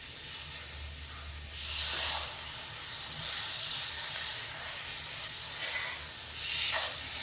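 Fresh fish gets stirred in a hot pan, a steady hissing, steamy sizzle close by with soft scraping strokes now and then and a low rumble underneath.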